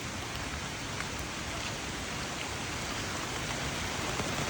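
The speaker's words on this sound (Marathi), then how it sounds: "मोठा पाऊस इलेलो हा." Heavy monsoon rain pouring down outdoors, a dense, loud, unbroken hiss of falling water that fills the whole clip with no voices.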